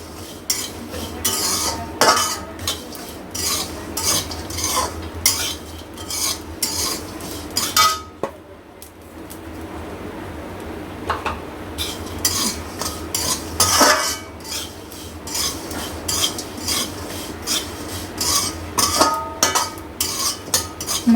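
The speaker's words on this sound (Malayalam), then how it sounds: "നെയ്യിൽ തേങ്ങ ഇട്ട് വറുക്കും." A metal spoon scrapes and clinks steadily against a pan, stirring coconut frying in ghee over a soft sizzle, close and continuous with a brief lull midway.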